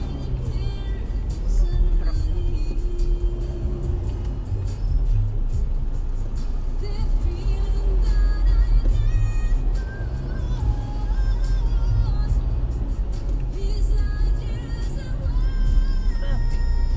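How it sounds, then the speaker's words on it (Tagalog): Road traffic heard from inside a car on the drive from Nasugbu, Batangas, to Fairview: a continuous deep engine and road rumble with faint passing vehicle sounds, while people talk in the cabin. "Traffic."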